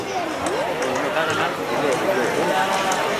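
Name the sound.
horse hooves clip-clopping during horse show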